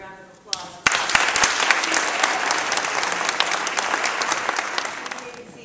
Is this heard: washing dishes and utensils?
no